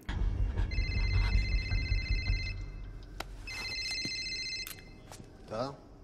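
A telephone rings during an interrogation scene in the film The Avengers, with two clear bursts of electronic ringing over a low background rumble.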